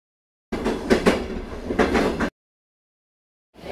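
A passenger train moving on rails gives a loud, close rumbling roar with a couple of rhythmic surges for about two seconds, then cuts to silence before the rumble briefly returns.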